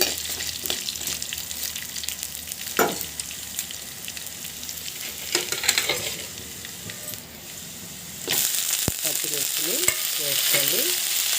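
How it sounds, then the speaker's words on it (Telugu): Coriander and fenugreek seeds with cumin dry-roasting in a pan, giving a steady soft sizzle with scraping stirs and clinks of a spoon against metal, a sharper burst of sizzle late on, no voices. "ఒక స్పూను ధనియాలు వేసుకోండి ఒక నాలుగైదు మెంతి గిన్నెలు వేసుకోండి ఇవి కొంచెం బాగా వేగనివ్వండి"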